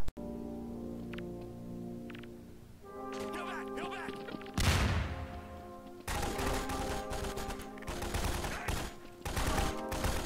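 Gunfire erupts in a video game battle, with heavy crashing volleys and rattling bursts over a musical drone, loud and dense in the second half, with voices shouting in between.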